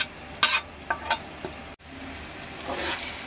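Ginger sizzles in a little oil for homemade Schezwan chutney, stirred in a few quick scraping bursts with a brief pause before the frying hiss swells again, close and unaccompanied by speech.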